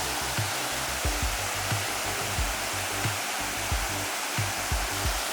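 Water rushes past the Maišiakulė water mill in a loud, continuous roar, with soft low thumps recurring at a steady rhythm beneath the flow.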